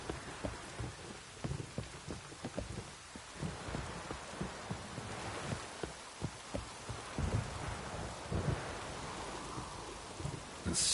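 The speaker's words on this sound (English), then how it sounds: "The storm, damn it." Steady rain pouring in a storm in the video game Witcher 3, with soft low rumbles of thunder beneath the continuous patter, no voices.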